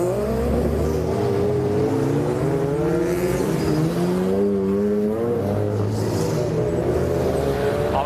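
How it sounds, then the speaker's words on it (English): Classic racing cars and MG Cup cars head out onto the track during qualifying, engines revving loudly and continuously as several pass close by in a dense, sustained roar. "there's an awful lot of cars heading out on track"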